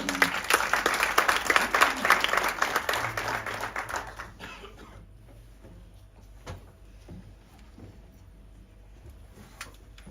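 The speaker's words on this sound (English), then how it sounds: "A round of applause for Mam Phumzile." An audience at a children's dialogue event breaks into loud applause that peaks in the first few seconds, then thins and fades to scattered claps and soft room noise.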